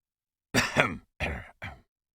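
Three rough, throaty coughs close by, one after another with short pauses, the first longest, in an otherwise quiet room.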